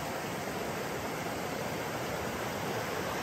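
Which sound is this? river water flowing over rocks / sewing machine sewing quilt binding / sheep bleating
river water flowing over rocks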